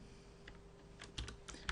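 Keys clatter on a computer keyboard as a search term is typed into a PC's start menu, a short quiet burst of irregular clicks that ends in a few quick strokes.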